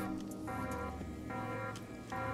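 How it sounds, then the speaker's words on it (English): Electronic alarms sound in Defiance 2050 as a quiet, steady tonal pattern that repeats in pulsing phrases, with faint ticking clicks over it and no talk. "Oh, I hear alarms going off."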